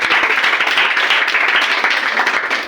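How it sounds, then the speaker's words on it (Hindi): Classroom students clapping loudly together, a dense burst of applause that holds steady for a few seconds, close and full. "चलिए तालियां के लिए भी जोरदार ताली बजाइए।"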